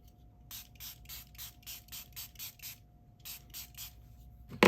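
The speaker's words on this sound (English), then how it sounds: "Spray bottle." A spray bottle spritzes about a dozen times in quick, even bursts with a brief pause partway through, close up and crisp against a quiet background.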